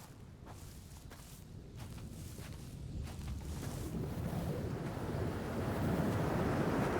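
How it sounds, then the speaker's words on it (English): Steady wind in the Dear Esther walking game, a broad rushing roar that slowly builds louder over several seconds with no voices. "sometimes you just want to hear the wind and watch the 2D plants sway"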